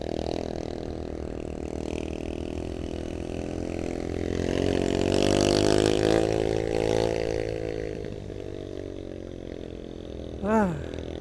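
A motorcycle engine drones steadily as it climbs a steep uphill road, swelling in pitch and loudness midway and then easing, close by, with a brief higher tone near the end.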